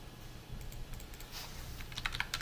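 A computer keyboard is tapped in a run of quick, light key presses, with sharper clicks clustered toward the end, fairly quiet over a low background hum and no voices.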